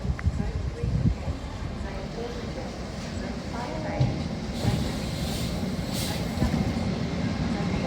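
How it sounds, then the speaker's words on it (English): An LNER train departs York station with a steady low rumble and rolling rail noise, while a platform announcement and other voices are heard over it. "Departing now is your 1330 LNER Xmas service from London King's Cross to Newcastle."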